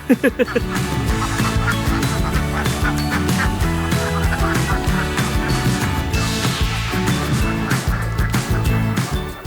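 A flock of about twenty egg-laying farm ducks quack loudly and continuously, many voices overlapping close by with no talking.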